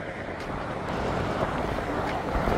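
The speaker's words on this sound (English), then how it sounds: "the wind blows them right over my head" Steady wind rushes outdoors along a mountain hiking trail, a continuous broad roar buffeting close to the microphone for the whole stretch without letting up.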